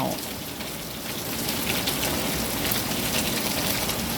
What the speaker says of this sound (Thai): มาฟังเสียงฝนกันนะเจ้า